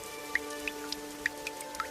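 Scattered water drops strike a surface one after another in an uneven, sparse rhythm over a faint steady hum, suggesting leaking rainwater dripping inside a flooded house during a cold-season downpour.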